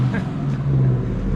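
Ram TRX pickup truck with a Hellcat engine and modified exhaust, a deep continuous rumbling drone, loud and close, holding a steady low tone through the short stretch.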